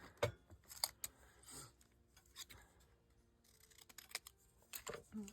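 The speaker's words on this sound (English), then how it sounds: "We'll just cut this." Scissors cutting paper while a 1920s-style junk journal is being assembled, with soft rustling and a few sharper snips and paper handling noises, close and quiet.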